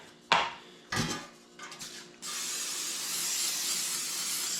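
Cooking spray hisses into a loaf pan in a long steady burst after a few clinks and knocks of kitchen utensils.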